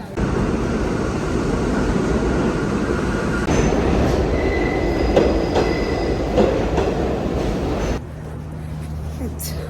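A subway train rumbles loudly and continuously with rolling wheel noise and brief high squeals, then the sound shifts as the train slows or passes into a different stretch near the end.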